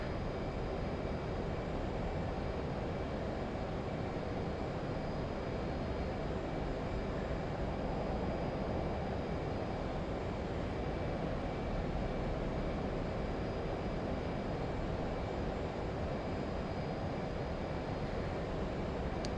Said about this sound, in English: Full afterburner.